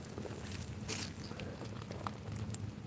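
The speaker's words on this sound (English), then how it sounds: "It's starting to come down pretty good" Rain falling outdoors on a trail, a steady, even patter filling the background, with faint scattered taps and rustles close by.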